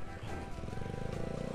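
A Honda Beat motor scooter idles as its engine warms up in a motorcycle workshop, a steady low rumble with regular pulsing throughout.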